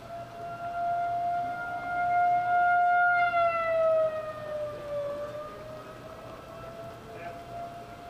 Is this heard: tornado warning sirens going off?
yes